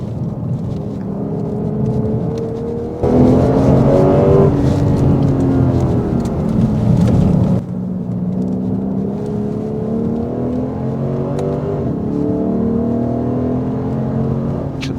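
A Lexus RC F on a race track, its engine note rising and falling through a right-hand corner as the car accelerates and lifts, with a steady revving whine and road rumble throughout.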